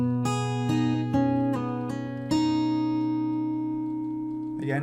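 Acoustic guitar playing bar 77 of a song in a fingerstyle arrangement, without percussive hits: several plucked notes and chords ring out one after another, then sustain and fade, close and clear with no talking.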